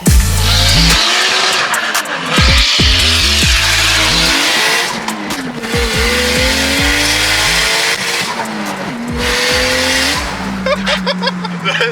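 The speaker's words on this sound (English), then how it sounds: "It also has a 45mm Turbo Smart external wastegate, which unlike my car is not plumbed back in" Modified Toyota 1JZ-GTE VVTi engine with a Hypergear turbo and a 45mm Turbo Smart external wastegate vented to atmosphere, in a Toyota 110; loud, close revving with repeated sharp throttle blips, gear changes and chirping tire squeal throughout.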